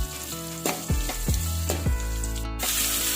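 Onion sizzles loudly in hot oil as a South Indian tempering with urad dal is fried. A utensil knocks against the pan several times with ringing clinks while the frying hiss runs continuously underneath.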